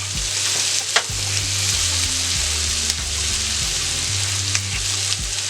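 Sausage and diced potatoes fry in a skillet for a country breakfast casserole, giving a steady, close sizzle throughout with a few soft stirring scrapes and a low tonal hum underneath.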